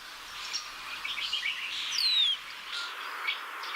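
Metallic starlings call from tall rainforest trees, a series of thin, high whistles and chirps, several birds overlapping at moderate distance with one sharper descending note standing out.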